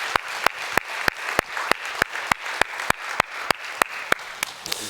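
A church congregation claps during a Korean Sunday worship service, with sharp, loud, evenly spaced claps in a steady unison rhythm over a soft wash of background sound, and no talking.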